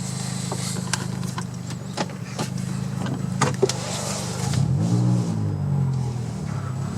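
An aftermarket exhaust on a 2017 Toyota Corolla SE hums low at about 1000 RPM, then the engine revs up briefly and the note swells, heard close with scattered clicks.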